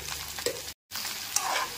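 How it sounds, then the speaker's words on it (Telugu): Okra and onions are stirred as they fry in a pan, making a steady close sizzle with a few scraping stirs. A short silent gap interrupts it partway through, and no one speaks. "బెండకాయలు ఉల్లిపాయలు కలిపేటట్టు ఇలా కలుపుకొని"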